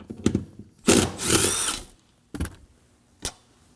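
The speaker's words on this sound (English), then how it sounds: "Using a 14mm socket, we're gonna remove this bolt." A power tool with a 14mm socket spins out a seat bolt on a 2014-2020 Acura MDX, giving a short buzzing burst, then a longer whirring run, followed by two brief blips, close up and with no talk.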